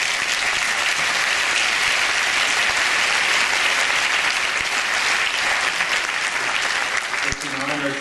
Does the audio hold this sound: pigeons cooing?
no